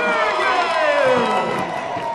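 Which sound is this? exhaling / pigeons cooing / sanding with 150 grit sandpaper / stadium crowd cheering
stadium crowd cheering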